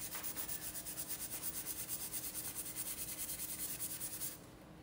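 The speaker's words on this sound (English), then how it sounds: "I'm gonna use this sanding pad. And I'm gonna go all around it so it's not so shiny." Sanding pad scrubbed back and forth over a metal ladle to dull its shine, a steady rhythmic rasping of even close strokes that stops abruptly near the end, with no talking.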